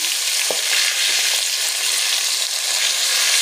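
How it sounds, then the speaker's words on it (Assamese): Pieces of fish frying in hot oil, a steady broadband sizzle that fills the clip at close range, with a brief sharper crackle near the start and no talking. "মাছকেইপিচ ভজা হৈ গ'ল।"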